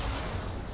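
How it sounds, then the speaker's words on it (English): Flashbang grenade going off in the Mass Effect 2 video game, a loud, dull boom with a continuous rumbling roar that stays strong for under a second, with no voices. "I assume that's a flashbang."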